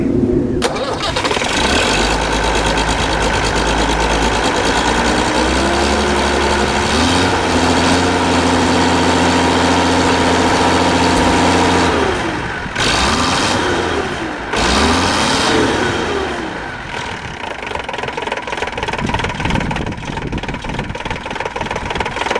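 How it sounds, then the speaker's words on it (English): A tractor fitted with a Ford lorry mini mech injector pump, with new pistons and liners, cranks loudly with a low rhythmic churn for several seconds, then catches and settles into a rough, rumbling idle. "this tractor has a mini mech off a Ford lorry engine fitted, and it starts a lot better. Let's give her a crank up"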